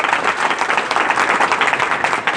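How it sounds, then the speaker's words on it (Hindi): Audience applause for a guest during an interview, dense close clapping filling the whole short moment at a loud, steady level. "तालियां तो बनती हैं मैम के लिए"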